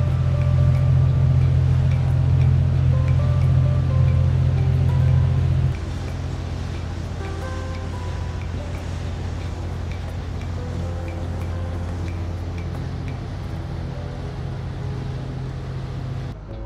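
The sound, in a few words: boat ride on Lake Como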